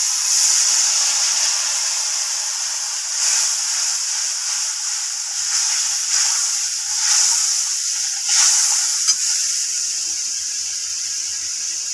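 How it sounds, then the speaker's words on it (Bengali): Spice paste of turmeric, chili powder and salt sizzles in a pan after a splash of water, a steady bright hiss with gentle surges and crackles, close and alone. "একটু জল দিয়ে দেবো।"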